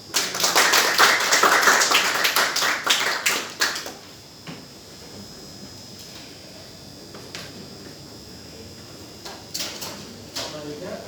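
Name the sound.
applause for Anies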